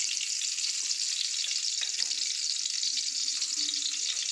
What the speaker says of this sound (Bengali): কড়াইটা গরম হয়ে গেছে, কড়াইটা আমি আগেই বসিয়ে দিয়েছিলাম। এই কড়াইটার মধ্যে আমি তেল দিয়ে দিলাম।